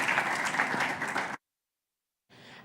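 A conference crowd at a health-tech investor summit applauds panelists, loud for over a second, then cuts abruptly to silence before fainter clapping returns at the end.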